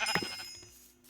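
One short sheep bleat from a video game, close and clear, fading quickly with no talk over it.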